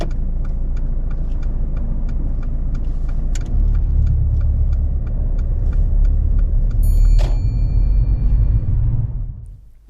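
A car pulls away during a driving test, its engine rumble swelling as it moves off under a regular ticking indicator, then a brief clatter and the sound cutting out.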